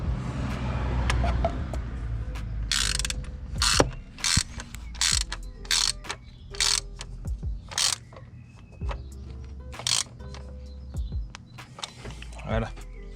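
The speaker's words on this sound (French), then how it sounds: "On visse, on visse, on visse." A screw being tightened by hand with a ratchet during an oil change on a BMW E30, giving a close series of sharp repeated clicking bursts in an uneven rhythm, with someone speaking at times.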